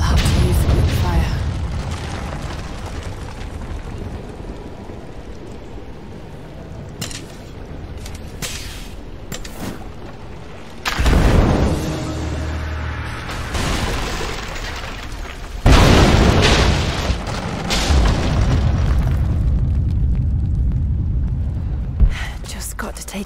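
Greek fire vessels exploding in Rise of the Tomb Raider, deep booming blasts breaking over a rumbling game soundscape, with two heavier bursts later on and a voice speaking at times.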